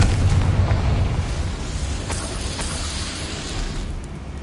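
Hogwarts Legacy's Confringo spell goes off in a heavy booming explosion, loudest at the start, then a rumbling roar and debris that trail off slowly.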